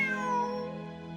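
A single drawn-out meow from Bonnie, a cat in Genshin Impact, heard alone and fairly clear, starting high and sliding downward as it trails off over about a second.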